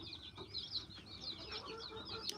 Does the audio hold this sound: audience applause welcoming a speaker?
no